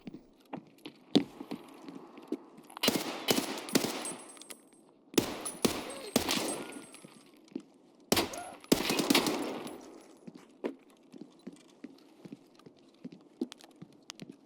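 Automatic gunfire in a video game rips out in several long, loud bursts, spaced between scattered single shots and quieter gaps, with no voices.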